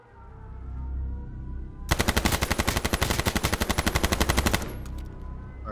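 A long, rapid burst of automatic gunfire from a shooter game, loud and close, with evenly spaced shots hammering for about three seconds before cutting off, no talking over it.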